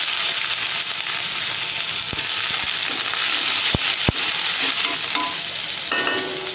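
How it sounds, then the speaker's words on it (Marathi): Mustard and cumin seeds crackle in hot oil while cooking shepu bhaji: a steady, close sizzle broken by scattered sharp pops, a few of them loud and distinct. "तर हे घ्या, अर्धा चमचा मोहरी घातली, तर जिरे 1 चमचा"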